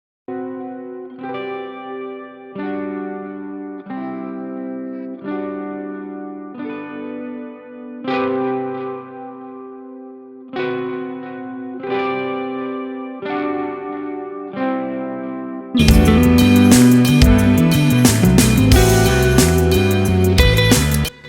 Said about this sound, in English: So that is the guitars, the clean guitars, as well as the distorted guitars.